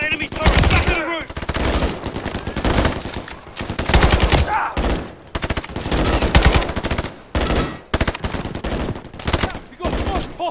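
Turret machine gun fire in Call of Duty: Modern Warfare III rattles in long, loud, close bursts separated by short gaps, with dense battle noise and shouted voices mixed in.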